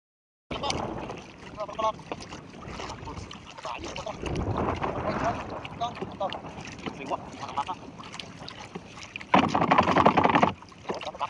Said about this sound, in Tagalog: pinupugpog ng kuya ko yung sagwan niya sa bangka